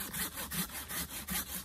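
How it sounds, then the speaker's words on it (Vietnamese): Hand saw cutting through a large sấu tree trunk, its strokes rasping steadily back and forth in an even rhythm, close and moderately loud with no voices. "Cưa để lâu han cả cưa rồi, vẫn cắt vẫn ngon."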